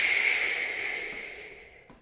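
A person imitates an ocean wave with a long, soft exhaled "shh" during a qi gong breathing exercise, a single airy hiss that slowly fades over two seconds.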